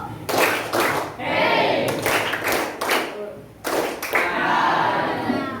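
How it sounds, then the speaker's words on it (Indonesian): A group claps in several bursts of rhythmic hand claps, loud and close, broken by short pauses. "Waktunya tepuk doang ya."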